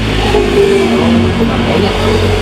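A motorbike engine revs steadily and loudly throughout, a continuous close mechanical drone with slight rises in pitch.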